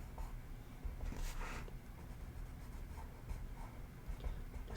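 Marker pen coloring in a stamped monkey image on paper, soft scratchy strokes repeating close up at low volume.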